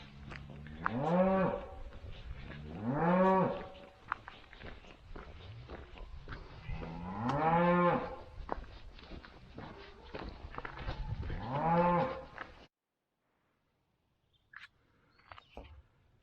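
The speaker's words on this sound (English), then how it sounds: "That's a loud cow." A cow near a hiking trail on Warton Crag moos loudly four times in long, rising bellows spaced a couple of seconds apart, followed by quiet and faint rustling.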